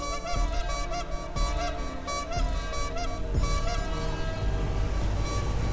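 A vehicle horn in GTA V sounds as a loud, sustained tonal blare with steady stacked harmonics, held continuously across several seconds amid game engine noise, with no talk.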